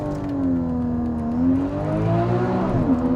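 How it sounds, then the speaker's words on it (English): A Porsche Cayman GTS launching hard under launch control, its engine note rising steadily with harmonic tones climbing through the gears, loud and close throughout with no talk. "put it in Sports Plus mode, left foot on the brake, mash the throttle, it says launch control, then you release the brake."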